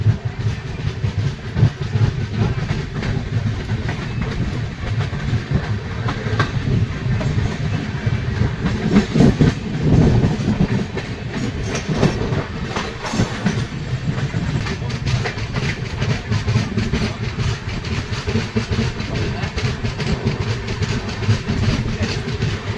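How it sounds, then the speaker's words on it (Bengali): A passenger train rumbles along at speed, leaving Mallarpur station toward Rampurhat, with steady rolling noise and rhythmic clatter of wheels on the tracks, loud and continuous throughout. "ট্রেন মল্লারপুর স্টেশন থাকিয়ে বেরিয়ে যাচ্ছে"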